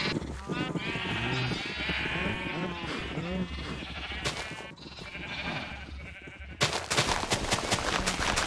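Minecraft sheep bleat repeatedly in wavering, nasal cries over someone speaking Spanish, with sharp rapid clicking and tapping game sounds bursting in near the end.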